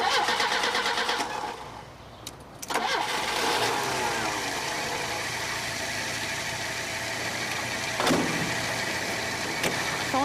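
A car engine is cranked and started on request, with a steady whirring starter grind, a brief dropout, then the engine catching into an even, mid-pitched idle with a couple of small knocks near the end.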